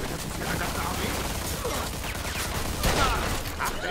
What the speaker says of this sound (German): Die ballern aus vollen Rohren auf mich.